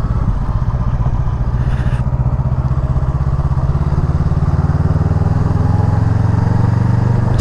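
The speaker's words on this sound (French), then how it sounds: "j'adore la reprise sur cette moto" Honda Rebel 500 motorcycle engine revving and pulling hard under acceleration, a loud, steady, close-up drone with rising throttle throughout and no talk.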